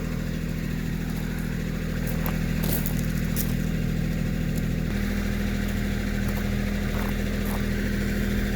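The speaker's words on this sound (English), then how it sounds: "I'll get the tractor started." A Kubota tractor engine runs steadily and loud throughout, a constant low idling drone with a slight shift in pitch midway, while a 9000 lb winch pulls on a stubborn stump.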